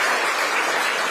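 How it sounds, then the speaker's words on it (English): Steady, dense clapping from a live audience fills the room, honoring diaspora department staff at a Kenyan diaspora engagement event in Doha, Qatar, with no voices breaking through. "Can you clap for them on behalf"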